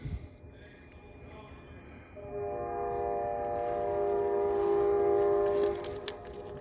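A distant CSX freight train horn sounds in long, sustained blasts across a river over a steady rumble of rolling railcars.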